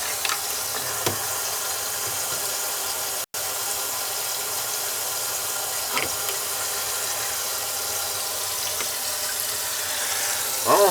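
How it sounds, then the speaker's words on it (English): A kitchen sink faucet, under a sink with a newly installed garbage disposal, runs in a steady, broad rushing stream for about eleven seconds, with a brief break and a few faint clicks and knocks. "Best thing to do is run the faucet and look up there."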